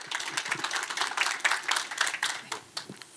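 A modest audience at a proptech vision conference claps for about three seconds, the separate hand claps fairly distinct and uneven rather than a thick roar.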